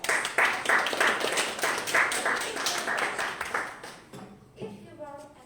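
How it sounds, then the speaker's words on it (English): Lively applause welcoming a participant at a Table Topics speech contest at the Dnipro Hills Club, a room of people clapping in a dense, rhythmic burst for about four seconds before it dies away and a voice begins. "Welcome her as a round of applause."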